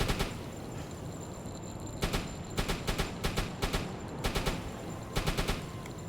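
Ship gunners in a naval video game fire their guns in short bursts of three or four quick blasts, separated by brief pauses, over a constant low engine and sea rumble.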